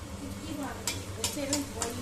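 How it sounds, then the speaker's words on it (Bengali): Luchi frying in hot oil for a home breakfast: a steady crackling sizzle runs throughout, broken by several sharp metallic clinks and scrapes of a utensil against the pan, close and fairly loud. "এই যে এখানে এখন হচ্ছে লুচি ভাজা"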